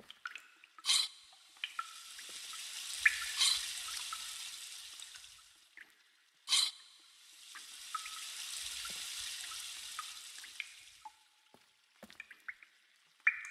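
Rushing water floods a lighthouse in the Myst video game, two long swelling surges each starting with a sharp clank, with small metallic clicks and drips between them, moderately loud and with no talking.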